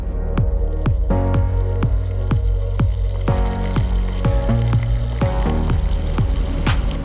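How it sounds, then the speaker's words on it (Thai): Sugar syrup for tanghulu boils in a pot, thick bubbles popping one after another in a steady plopping rhythm, close and loud with no voices. "พอน้ำตาลเดือดแบบนี้แล้วนะครับ"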